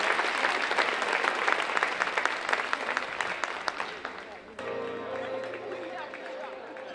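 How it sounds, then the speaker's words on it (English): An audience at a mayor's ball breaks into a loud round of clapping and cheering for several seconds, then it cuts abruptly to quieter tonal music. "Can you please give these ladies a round of applause?"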